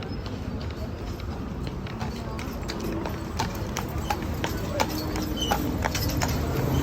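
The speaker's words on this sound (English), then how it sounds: "They had like little horse and carriage." Horse hooves clip-clop steadily on a street as a horse-drawn carriage passes through old neighborhoods in Savannah, a continuous rhythmic clatter over outdoor city ambience.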